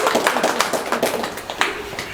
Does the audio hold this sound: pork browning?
no